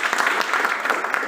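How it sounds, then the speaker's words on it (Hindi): Dense audience applause fills a lecture hall during a talk on water pH in aquaculture and biofloc farming, a steady wash of many hands clapping with no break, moderately loud and with no speech over it. "जबरदस्त, तालियां इनके लिए।"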